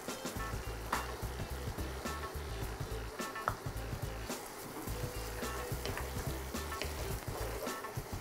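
Chopped onion and tomato fry in a pan with a steady sizzle, broken by repeated rhythmic scraping and stirring strokes from close by, with no voices.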